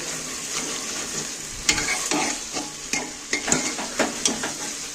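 Egg and jackfruit curry with softened onions being stir-fried in a pan, an ongoing sizzle broken by repeated scraping and clacking strokes of a spatula, close up with no talking.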